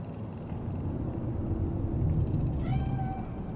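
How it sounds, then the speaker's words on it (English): A cat meows in the video game Cyberpunk 2077, one drawn-out call rising late over a steady low rumble of city ambience. "Do you see it? That cat?"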